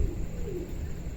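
Pigeons on a rooftop eating grain give a low, soft cooing murmur close by, lasting only about a second against quiet background noise.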